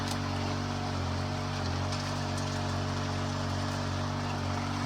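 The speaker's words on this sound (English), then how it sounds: "It's been raining off and on." Steady rain falls outdoors in cold, snowy weather at a Cariboo gold mining camp with a small tent, a continuous dense patter under a low constant hum, with no talking.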